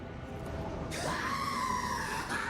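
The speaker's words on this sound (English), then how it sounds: "Theodora lets out a screech" Theodora, a character in the video game Rogue Trader, lets out a long, loud, shrill screech that begins abruptly and sustains over low background game ambience.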